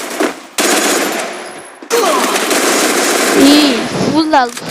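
Rapid automatic gunfire bursts in the Free Fire battle royale game, loud and close, with short pauses between volleys and a voice talking underneath part of the shooting.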